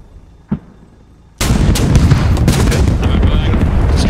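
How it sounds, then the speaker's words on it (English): An anti-tank weapon fires at a vehicle in the video game Squad: after near-silence with one faint thump, a single loud blast erupts and becomes a sustained rumbling roar. "I'm gonna put a shot through this window."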